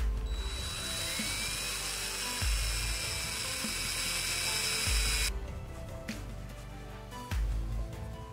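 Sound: drilling a hole in a pin for a grease fitting

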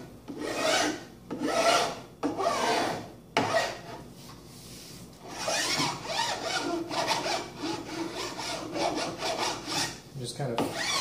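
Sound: regular flat file filing an edge

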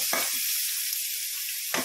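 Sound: ginger and garlic frying in oil

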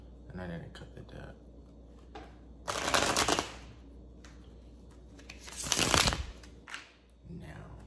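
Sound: shuffling a deck of tarot cards

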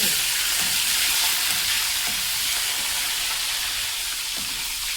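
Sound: ivy gourd frying in a pan

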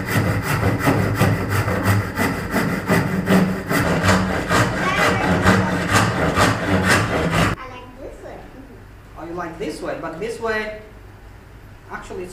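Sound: handsaw cutting bamboo

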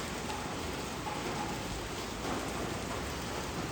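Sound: heavy rain falling, seen from a bedroom balcony

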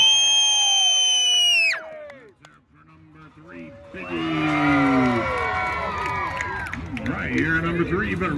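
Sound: crowd cheering on racing pigs at strawberry festival

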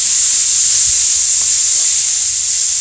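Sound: onion and capsicum frying in a pan

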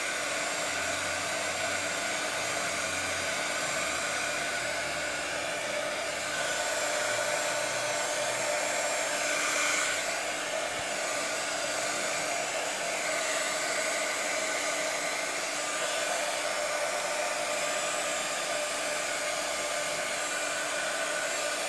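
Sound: hair dryer drying a craft gift box

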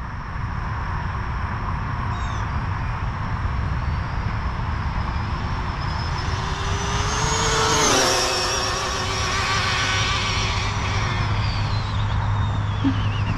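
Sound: Arrma Limitless RC car speed run

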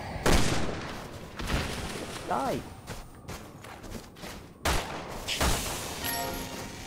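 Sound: magnum gunfire in the video game Resident Evil 6

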